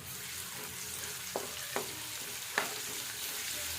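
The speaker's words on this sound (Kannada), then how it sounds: "ಬೆಳ್ಳುಳ್ಳಿ ಹಾಕ್ಕೊಂಡು ಅದಕ್ಕೆ ಇವಾಗ ತಿರುಗಾಡೋಣ" Garlic frying in a pan while it is stirred: a steady, close hiss of sizzling oil broken by a few sharp utensil scrapes against the pan, with no talking.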